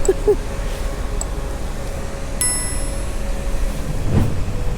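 A Polish passenger train runs on its rails with a steady rumbling roll, soft clicks and a brief metallic ring partway through, heard from inside the carriage along with faint voices.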